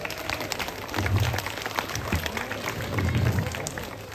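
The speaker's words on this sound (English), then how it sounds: "Let's give him a round of applause" An outdoor audience claps briefly beside a pond where animals are on show, a short, moderately loud patter of applause that swells and fades twice.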